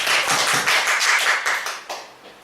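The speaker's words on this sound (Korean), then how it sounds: "박수 쳐주세요." A church congregation claps together during a Korean worship service, producing dense, loud, close clapping in a steady rhythm that thins and fades toward the end.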